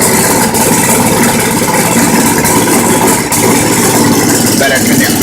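A 12-volt generator engine idles steadily and loudly, a constant mechanical drone with a brief dip near the middle, close to the listener.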